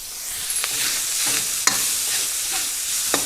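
Ground pork sizzles at medium heat in a pan, a steady bright hiss broken by a few sharp scrapes and taps of a utensil stirring the meat, with no talking.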